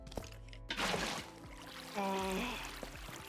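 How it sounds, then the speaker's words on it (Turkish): Water poured in Minecraft Java Edition 1.19, a short splashing pour that swells, fades, then returns as a second softer gush, close and moderately quiet. "Şimdi odanın rastgele iki köşesinde su döküyorum."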